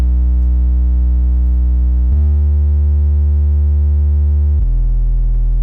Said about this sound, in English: which is a simple, like really sine wave bass